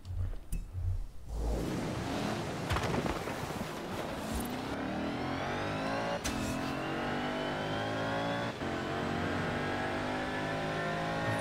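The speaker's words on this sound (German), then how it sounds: "Ich liebe einfach Kompressor-Motoren." A supercharged car engine in Forza Horizon 4 revs hard and climbs through the gears, a loud continuous whining roar with rising pitch and brief shift dips, playing steadily for about eleven seconds with no talk.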